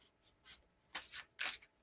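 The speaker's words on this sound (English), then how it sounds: "I'm going to keep shuffling until something happens here." Tarot cards shuffled in the hands make four quiet, crisp riffling bursts, the last two longer and louder, with no talking.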